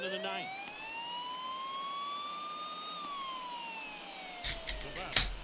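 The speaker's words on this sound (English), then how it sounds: "Time to sound the sirens" A siren wail from a baseball video game, rising and falling in a long sweeping tone that lasts several seconds, followed by a couple of short bursts of crowd or stadium noise.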